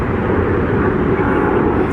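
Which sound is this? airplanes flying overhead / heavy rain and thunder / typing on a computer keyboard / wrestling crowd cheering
airplanes flying overhead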